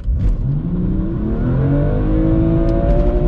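A BMW M2 Competition with 410 hp pulls away hard from a standstill in first gear, its engine revving loudly and climbing steadily in pitch, close and sustained with no talk.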